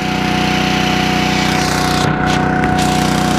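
A steady, loud Kubota LX2610 tractor engine drones with a rhythmic mechanical thrum, running continuously close by.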